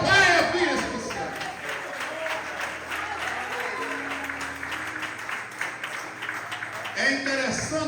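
A church congregation at a Portuguese-language family worship service applauds together, a steady wash of clapping lasting several seconds with a voice speaking over it.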